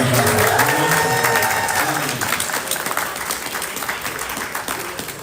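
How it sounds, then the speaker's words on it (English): Audience applause fills a DragonCon panel room, a dense wash of clapping from a crowd that starts loud and slowly thins over about five seconds, with a voice briefly audible at the start. "Everybody give yourself a round of applause for showing up."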